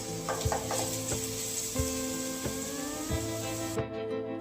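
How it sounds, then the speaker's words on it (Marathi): Garlic sizzles steadily in hot oil in a pan for a dal amti tempering, with a few soft stirring clicks and scrapes under the constant crackle. "पॅनमध्ये तेल गरम करून तर मी डायरेक्ट करते छान असं लसूण परतून घ्यायचं"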